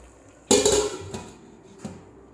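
Utensil scraping and clattering in a pan while breadfruit upma is mixed, one loud stroke followed by two fainter knocks, close by with no talking.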